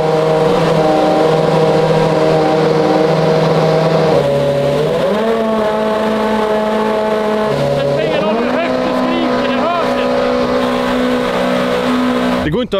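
Red Bull Formula 1 car engine running very loud and close, a high sustained whine that steps up and down in pitch as it is revved, dominating the whole stretch with voices lost beneath it.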